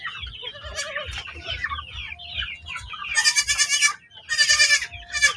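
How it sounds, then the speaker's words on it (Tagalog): A baby goat bleats in repeated loud, wavering cries close by on a farm, with a steady low rhythmic thumping underneath. "Ayaw niya padidi yung kanyang sanggol na kambing."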